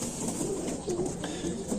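Soft, low racing pigeon cooing repeats a few times over a steady background hum, close by and fairly quiet.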